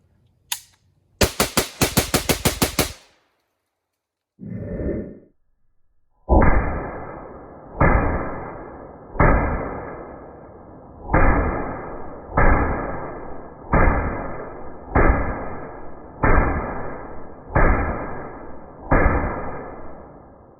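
AK-47 rifle with a slant brake muzzle device fired outdoors: an early rapid burst, then a string of loud, sharp single shots spaced about a second apart, each with a ringing echo trailing off.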